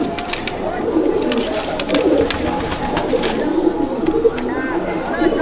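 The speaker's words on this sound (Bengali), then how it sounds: "মেল ফিমেল দুটোই দুর্দর্শ পায়রা।" Rampuri pigeons coo steadily inside a loft, a continuous layered murmur of several birds close by, with someone talking over them throughout.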